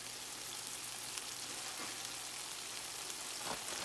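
A tortilla simmering in birria broth in a pan gives a steady, fairly quiet sizzle and bubbling hiss, continuous and even throughout with no talking.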